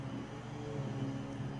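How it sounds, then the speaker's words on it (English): Steady, droning hum of a vacuum cleaner running upstairs in a house, muffled and fairly quiet but continuous for the whole moment, with no talking over it. "what you're hearing now is the vacuuming upstairs."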